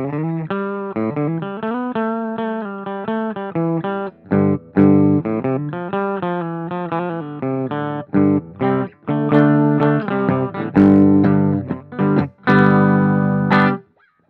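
An electric guitar plays a melodic line of picked notes and chords, fairly clean with some effect coloring, brief pauses between phrases.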